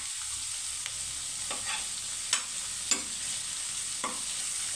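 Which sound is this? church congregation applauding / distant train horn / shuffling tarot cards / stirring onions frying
stirring onions frying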